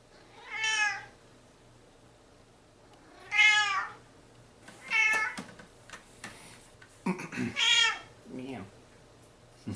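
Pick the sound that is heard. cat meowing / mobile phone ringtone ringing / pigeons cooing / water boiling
cat meowing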